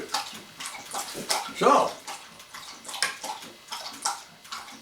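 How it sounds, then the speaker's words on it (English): A hound dog laps morning water indoors, making repeated wet slurping and splashing sounds at close range while a person speaks briefly. "Now one of my hound doggies is in here having some morning water too."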